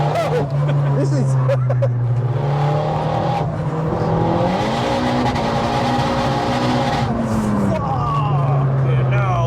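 Turbocharged 387 hp front-wheel-drive Vauxhall Corsa engine running, a steady droning idle that rises briefly in pitch as it is revved, then settles back, close and loud, with people talking over it.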